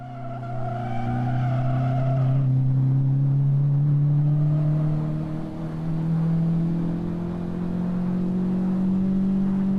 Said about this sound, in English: Little rev match there, but this car has rev matching